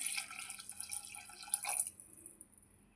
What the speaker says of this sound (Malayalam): കുറച്ച് വെള്ളം കൂടി ആഡ് ചെയ്യാം.